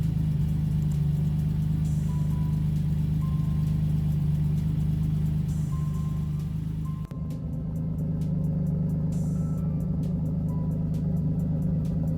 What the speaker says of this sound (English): as you can hear, the engine sounds lovely and runs smoothly